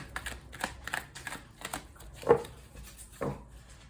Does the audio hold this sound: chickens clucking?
no